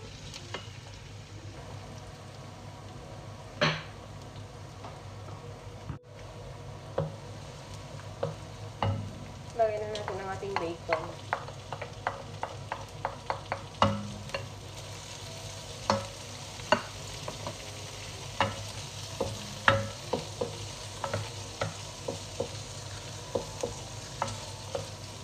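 Garlic and onion sautéing in a pan for a creamy lobster carbonara, a steady low sizzle broken by frequent sharp clicks and scrapes of stirring, close and fairly quiet with no talk.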